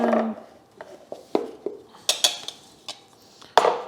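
Utensil clinks and taps against a pan while bajra millet cake batter is mixed, a series of irregular sharp metallic knocks and scrapes, close and fairly quiet between strikes.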